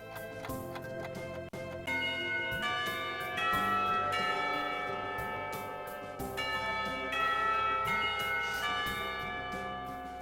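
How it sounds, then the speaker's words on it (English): A school bell rings out in the visual novel Katawa Shoujo, a sustained, resonant chime with bright overtones that repeats in strokes over several seconds, loud and alone, with a synthesized music bed beneath it. "When the bell rings"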